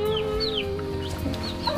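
Chickens cluck and chatter nearby, several birds overlapping, with a steady background hum beneath them.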